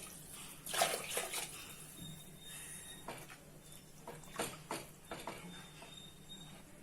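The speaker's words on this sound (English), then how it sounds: "Totally I am adding 7 glasses of water." Water being poured into a cooking pot of rice and coconut milk for a home-style mushroom biryani, a faint splashing pour with soft sloshing and a few clinks, quiet and close, with no talk.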